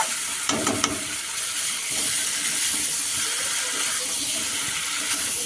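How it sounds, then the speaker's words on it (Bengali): Boiled potatoes being stirred and fried in a spice masala for a vegetarian aloo dum, a steady close sizzle with a few scraping stirs near the start and no voices. "সেদ্ধ করে রাখা আলুটা ছেড়ে দেওয়া হচ্ছে এই যে মশলার মধ্যে দিয়ে একটু কষানো হবে"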